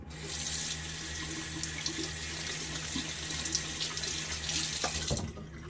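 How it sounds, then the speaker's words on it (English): Water runs steadily from a bathroom tap into a sink as shaving soap is rinsed off fingers, a faint, continuous hiss with small splashes near the end. "It takes more time to rinse that slickness off of my fingers."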